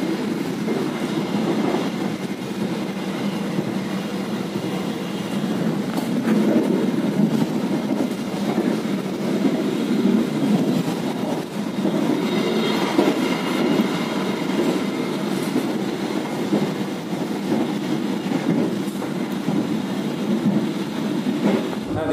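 Purwojaya passenger train riding through tunnels, a steady loud rumble of wheels and carriage with rolling clatter and rushing air, continuous and close throughout with no talking.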